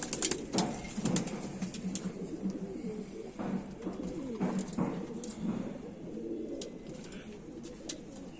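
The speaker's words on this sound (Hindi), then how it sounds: "ये देखिए ये कांटों वाला मेरा एक फेवरेट कबूतर है जी" Kamagar pigeons, a long-lived crested bird with a large earring-like tuft, cooing in low, rolling murmurs that layer together continuously, with faint chirps from other birds around them.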